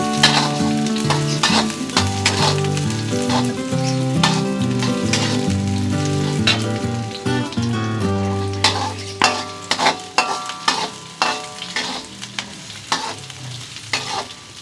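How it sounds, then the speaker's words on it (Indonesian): Shallots and garlic sautéing in hot oil in a pan for stir-fried water spinach, a loud continuous sizzle with repeated scraping and stirring strokes that grow sharper and more spaced toward the end. "bawang merah, bawang putih, tumis"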